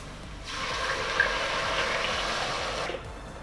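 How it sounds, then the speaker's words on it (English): Tomato mixture poured into a pan of frying ginger makes a single steady, fairly quiet wet pour lasting a couple of seconds. "take that tomato mixture we made just before and pour that in"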